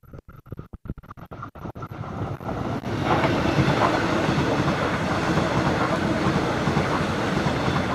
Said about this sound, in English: the train turned up right on cue